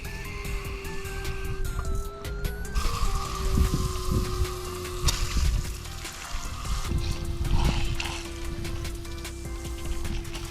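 A garden hose sprays water across a soaked part from a Porsche Cayman S, a steady close hiss and splatter with shifting pitch as the stream moves, accompanied by a sustained tonal whine throughout.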